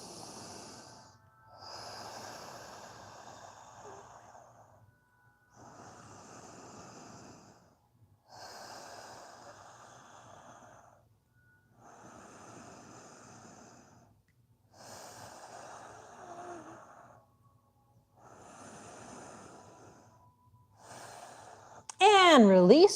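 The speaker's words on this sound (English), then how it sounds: "inhale and exhale through your nose" Slow, deliberate breaths drawn in and pushed out through the nose during a yoga stretch, soft airy hisses repeating in a steady rhythm with brief pauses between, close and quiet, ending in a sharper noise.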